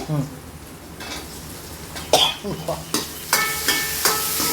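Tomatoes tipped into sautéed onions for a Chettinad chicken white kurma, sizzling in the pan while a spoon stirs and scrapes in irregular bursts, with a few coughs and kitchen clatter close by.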